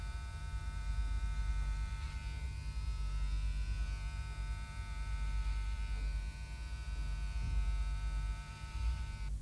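Breville electric hair clipper with a number 1 guide trimming the nape of the neck, a faint steady buzzing hum running continuously and close.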